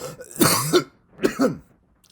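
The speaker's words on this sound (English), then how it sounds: "I had to cough." Two close, throaty coughs in quick succession, the second following about a second after the first, with quiet in between.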